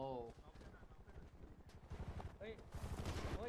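Rapid gunfire from the video game GTA V crackles in quick repeated bursts under near, excited shouting from several players, with the shots staying loud and dense throughout.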